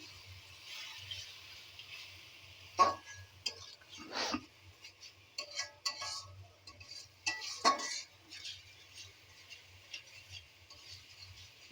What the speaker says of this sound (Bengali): মশলাগুলো দিয়ে একটু ভালো করে কষিয়ে নিই